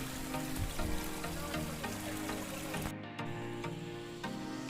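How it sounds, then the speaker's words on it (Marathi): A small forest stream with very little water trickles in a steady, soft, continuous wash, with no voices. "हा एकदम थोडं पाणी वाहत आहे."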